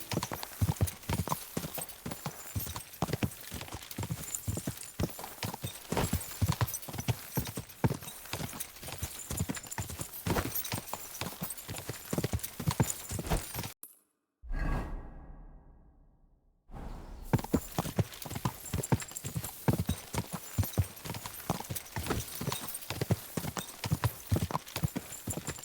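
Horse hooves clip-clop in a steady, rapid rhythm, close and prominent, broken by a short near-silent gap before the trotting resumes, with an occasional faint whinny.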